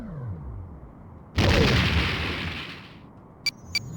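A torpedo launch in a Star Trek space combat game against a Romulan warbird: a sudden loud whooshing blast that lasts about a second and a half and fades out, followed by two short electronic beeps.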